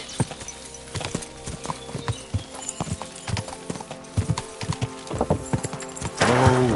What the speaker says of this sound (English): Whoa, whoa. My, what a beautiful horse.